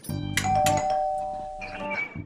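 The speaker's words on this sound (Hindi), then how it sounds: "घंटी बज रही है" A doorbell in a home rings with two bright ding-dong chimes, the tones ringing out and lingering, loud and close, with a short third strike at the end and no talking.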